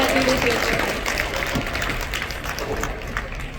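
An audience in a hall at the Vex Robotics Arkansas State Championship opening ceremony claps and cheers, a dense, steady applause that starts loud and slowly fades a little, with a voice speaking over it.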